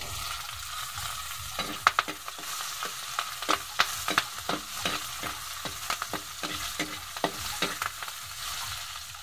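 Garlic, ginger, onion and chili frying together in a pan, a low sizzle broken by repeated sharp scraping and clacking stirs of a spatula, close and clear, with no talking.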